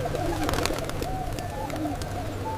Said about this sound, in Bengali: এটা হলো পায়রা। পায়রাকে ইংরেজিতে বলে পিজন।